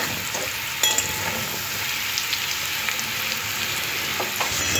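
Beetroot and potato frying in a pan give a steady, close sizzle with occasional small pops and scrapes of stirring throughout.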